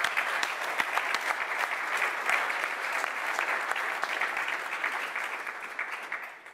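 An audience at a ZBrush 4R7 reveal presentation breaks into sustained applause, dense clapping holding steady before tapering off at the end.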